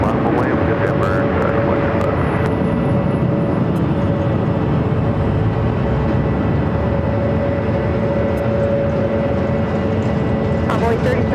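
A fixed-wing aircraft roars down runway 7 left at Phoenix airport on takeoff, a loud, dense, continuous engine rumble that holds steady throughout, close and dominant.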